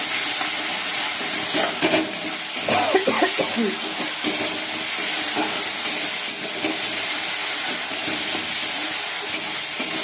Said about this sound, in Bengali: আর এদিকে মশলাটা কষে নিচ্ছি